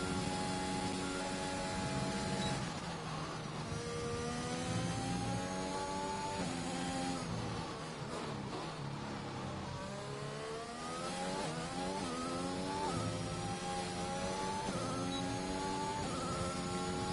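A Formula 1 car in F1 2021 on the Portugal circuit screams through a lap, its engine pitch climbing and dropping sharply through gear changes, steady and close throughout.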